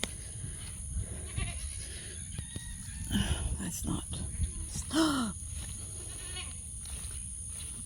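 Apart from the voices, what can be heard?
goats bleating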